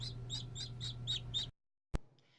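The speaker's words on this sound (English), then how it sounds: "Baby chicken," Baby chicken chirping in a short series of six rapid, high-pitched peeps over a steady low hum, then a brief silence and one sharp click, with faint chirps trailing after.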